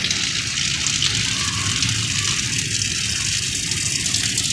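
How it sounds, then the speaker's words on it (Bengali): Heavy rain pours down steadily in Pakistan, a dense, constant hiss that stays loud throughout with no breaks. "এই দেখেন অনেক জোরতে বৃষ্টি হচ্ছে জোরালো বৃষ্টি"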